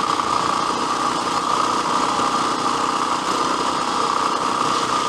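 A motorcycle engine drones steadily and loudly throughout, a constant mechanical hum with no pauses or speech.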